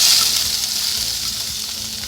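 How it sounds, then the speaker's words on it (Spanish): Chopped onion hits a hot pan for a Peruvian minute soup, giving a bright close sizzle that settles into a steady, softer frying hiss. "Y agregamos nuestra cebollita."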